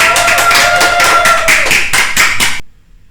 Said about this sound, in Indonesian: Tepuk tangan dong buat Dera